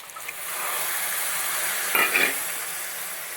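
Okra curry masala paste for Kerala-style vendakka mappas sizzles steadily in a pan with water added, a constant hiss with a couple of soft stirring scrapes near the middle, close by.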